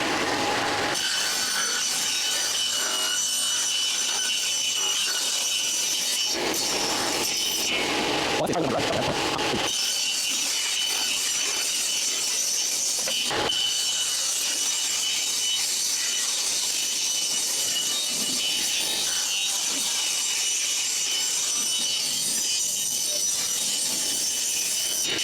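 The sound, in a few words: saw cutting wood board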